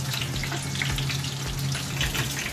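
Chicken frying in oil for Arabian chicken majboos gives a dense, continuous bubbling sizzle close by, steady and unbroken with no talking.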